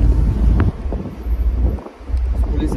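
Loud, steady wind buffeting a microphone, a gusty roar with brief dips, air rushing into a moving car with no windshield.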